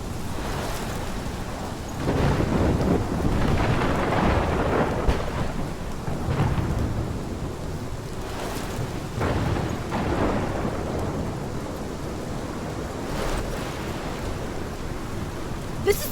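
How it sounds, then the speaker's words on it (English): A thunderstorm from the video game Life is Strange: steady rain hisses throughout while deep thunder rumbles roll in and fade, loud and enveloping, with no voices. "This is my storm."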